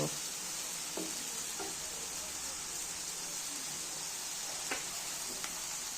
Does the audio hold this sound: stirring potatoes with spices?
yes